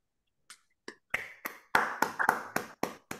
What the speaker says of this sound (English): if we could maybe even unmute and give Raewyn a round of applause